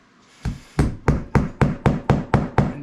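Nine sharp, evenly spaced hammer blows ring out one after another, loud and close, each strike decaying quickly before the next, driving through carpet while building a cat tower.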